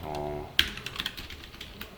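Code is typed on a computer keyboard while building a Swiper slider library layout, with a short burst of close key clicks and taps following a brief bit of speech.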